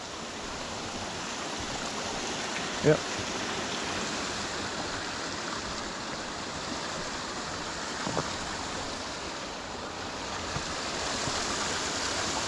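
A small brook along the River Wansbeck runs fast after heavy rain, a steady broadband rush of water holding constant throughout, with a brief murmured word near the start.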